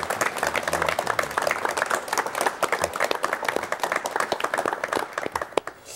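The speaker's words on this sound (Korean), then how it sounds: "여러분 김재근 박사님을 박수로 맞이해 주시면 대단히 고맙겠습니다." A 1986 Korean TV studio audience claps to welcome a guest: lively, dense applause with many overlapping hand claps that thins out and fades near the end.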